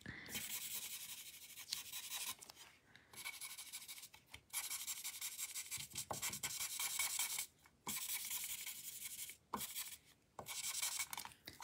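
Chisel nib marker coloring on paper in repeated scratchy strokes with short pauses between them, close and fairly faint, with no talk.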